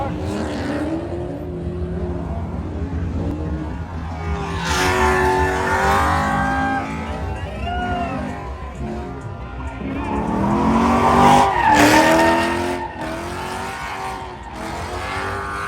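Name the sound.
car drifting with squealing tires at racetrack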